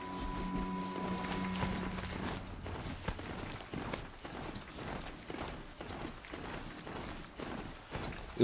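A robotic bull mount in Horizon Zero Dawn trots along with a steady run of heavy, clopping footfalls mixed with mechanical clanks, close and even-paced throughout.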